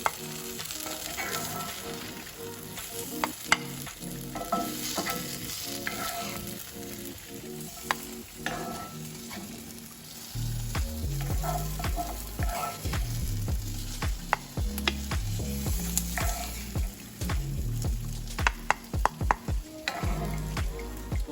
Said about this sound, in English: I'm gonna go ahead and remove these from the skillet and put them back into our bowl